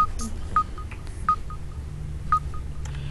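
Keypad tones from a Samsung Behold phone: several short electronic beeps at irregular intervals, clear and close over a low background rumble.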